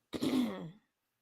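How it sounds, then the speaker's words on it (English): A single short throat clearing, a rough voiced rasp under a second long, close and fairly loud, then silence. "Are you clearing your throats?"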